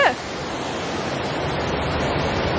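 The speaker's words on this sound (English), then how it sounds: "There's like a little waterfall." A small waterfall in an Edinburgh garden setting produces a steady, broadband rush of falling water, fairly close and continuous, with a brief faint voice at the very start.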